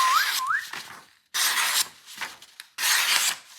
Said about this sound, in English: Shouldn't have whistled like that.